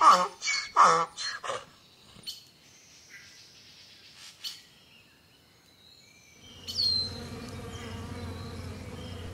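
A wasp buzzes in a close, continuous drone that rises in after a few scattered chirps and short bursts, then holds steady to the end.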